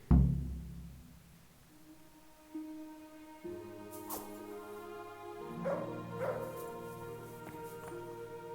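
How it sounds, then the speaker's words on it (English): A dog whimpers and gives a few yips and barks in the medieval video game Kingdom Come: Deliverance, moderately close, over a sustained musical score with a low drone. "To heel, mutt."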